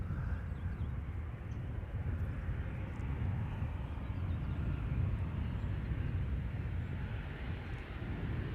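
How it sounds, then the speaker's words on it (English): Distant jet engine rumble from a KLM Boeing 737-900 arriving from Geneva, a low, even roar at moderate volume with no talk, steady throughout. "This is KLM Flight 1930, arrival from Geneva, 737-900."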